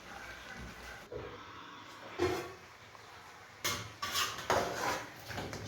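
A cooking pot is covered with its lid, producing a few sharp metallic clanks and scrapes, some close and fairly loud, spread across a quiet kitchen background with no talk.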